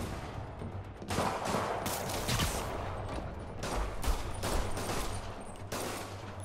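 Gunfire from enemies in a Spider-Man video game, a dense, steady fusillade of rapid shots with a few louder cracks standing out, sustained and fairly close throughout.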